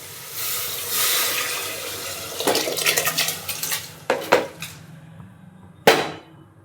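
Water poured into a pot of rice for mushroom biryani, a rushing splash that gives way to metallic clinks and knocks of cookware, close and with no talk.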